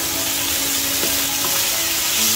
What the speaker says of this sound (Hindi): अब इसमें प्याज के अंदर ये हल्की सी ट्रांसल्यूसेंट हो गई है, तो मैं ये चावल मिक्स कर दूंगी।